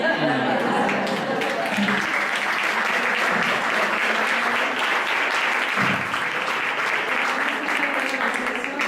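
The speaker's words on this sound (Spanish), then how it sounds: "vamos a darle un aplauso a la persona" An audience at a climate change conference applauds steadily and continuously after a talk, a dense sustained wash of clapping with faint voices mixed in.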